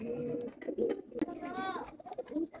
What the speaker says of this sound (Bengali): নর কবুতর দেখছেন, খাকি কবুতর, এটা চোখের রিং দেখছেন কবুতরটার